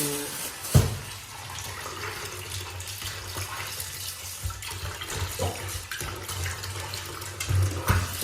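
Vegetables washed under a running kitchen tap, a steady splashing stream of water with a few louder knocks and clatters, heard close up without speech.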